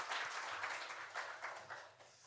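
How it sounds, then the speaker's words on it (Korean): Congregation applauding during a Sunday church worship service, a broad wash of clapping that swells and fades in waves, fairly faint and continuous with no talk over it. "하나님께 영광의 박수 올려드리겠습니다."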